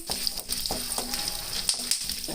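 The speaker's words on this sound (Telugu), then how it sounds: "ఇప్పుడు జీలకర్ర, ఆవాలు, ఒక ఎండుమిర్చి ఇవి కూడా కొంచెం చిట్పట అనే వరకు" Peanuts, cumin, mustard seeds and a dried red chilli fry in hot oil for pulihora, with a steady close sizzle broken by crackling pops and an occasional stir of the pan.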